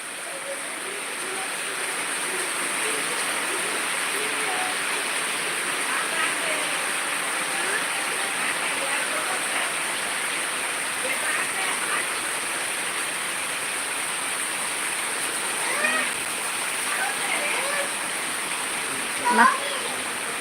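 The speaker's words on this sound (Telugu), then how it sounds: "వర్షం పడుతుంది" Heavy rain pours steadily in Khammam district, Telangana, a dense, even hiss that continues throughout with no pauses and moderate loudness.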